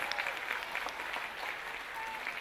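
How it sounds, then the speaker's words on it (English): A crowd at a Browns Plains and Park Ridge awards event claps for an award recipient, brisk continuous applause filling the short stretch. "give her a big clap"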